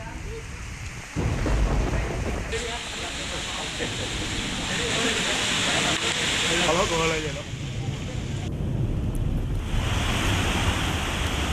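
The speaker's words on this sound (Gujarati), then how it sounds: "શહેરમાં ભારે પવન સાથે વરસાદ વરસ્યો" Heavy rain driven by strong wind roars continuously over a city, a dense, loud wash with gusting swells, while a news voice speaks briefly over it.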